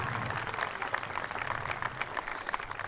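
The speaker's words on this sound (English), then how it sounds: "Yes, now you can clap." Applause from a crowd at a 2021 high school graduation ceremony for Canyon View High School, a steady dense wash of many hands clapping without pause, moderately loud and even throughout.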